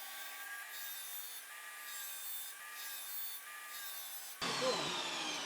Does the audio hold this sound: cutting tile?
yes